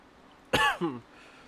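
Two quick, close coughs, the first harsh and loud, the second shorter and lower, then quiet.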